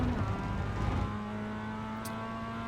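A Mazda MX5 race car in the iRacing simulator holds a steady full-throttle engine drone with a sustained tonal whine, loud and close, with no talk over it.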